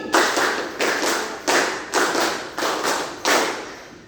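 Sharp hand claps in a steady pattern, about eight in a row with short pauses, loud and close with a reverberant room tail.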